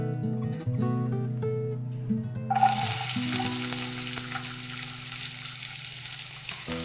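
Onions dropped into hot oil for Thalassery biryani. A bright, hissing sizzle bursts in partway through and then holds steady and close, after a quieter opening with background music and a light clatter.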